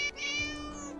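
A single cat meow from the video game Neverwinter Nights 2, clear and close, lasting about a second with no talk over it.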